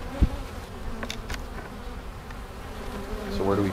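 Honey bees buzz faintly around a hive during winter preparations, a soft, steady insect hum with a few sharper close passes.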